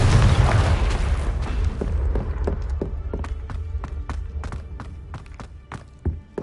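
A Confringo explosion spell in Hogwarts Legacy goes off with a deep, loud boom at the start that rumbles away, followed by quick rhythmic footstep taps and a small pop near the end.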